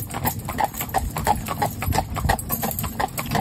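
Part-bred Arab horses trot in a steady two-beat rhythm, hooves clip-clopping evenly and fairly close on firm ground, with no voices over the hoofbeats.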